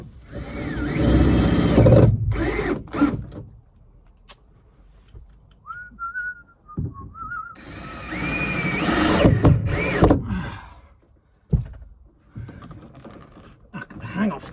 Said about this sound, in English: drill one hole, and then screw that side